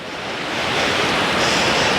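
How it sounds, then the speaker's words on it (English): Surf at a beach in The Gambia roars steadily as waves break, a dense broadband wash that swells slightly and stays loud, with some wind noise on the microphone. "these waves do look very inviting"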